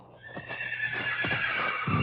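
A horse whinnies loudly and at length, with hooves clip-clopping and stamping under it, set against a steady high ringing tone in a 1951 radio drama.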